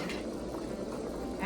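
A pot of Vietnamese snail soup broth bubbles at a steady boil with tomatoes in it, a dense continuous simmering rush heard close up.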